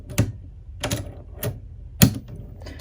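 A Cricut Maker scoring tool seated into clamp A, giving four crisp separate clicks spaced roughly half a second apart, close and distinct against near silence.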